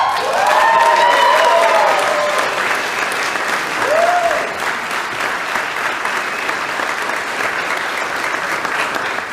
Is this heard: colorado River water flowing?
no